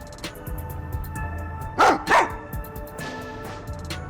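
Dog named Sugar barking in the video game Rain Code, several short yipping barks, two louder close ones in the middle, over a quiet game soundtrack.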